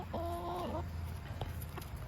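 Chickens and young chicks in an outdoor yard give a short, close cluck over a low, steady background, then a few faint scratches and peeps.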